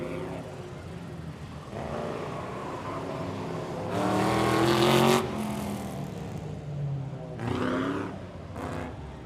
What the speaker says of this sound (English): Classic V8 noises out of Mike Hurst's Capri